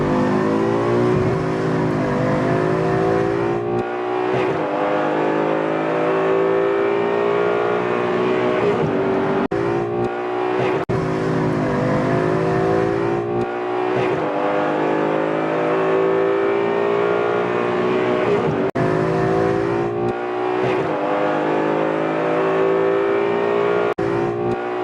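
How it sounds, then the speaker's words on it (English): A bone stock Ford Boss 302 V8 pulls hard through the gears, loud revving climbs with brief dips at each shift, heard from inside the car. "Now, listen to a bone stock Boss 302."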